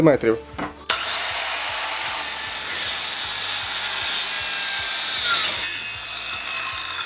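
A Dnipro-M CS 185 M circular saw cuts a piece of wood to a set 8 cm length against its fence: a loud, steady, close whine for about five seconds, then a quick spin-down after a brief quiet start.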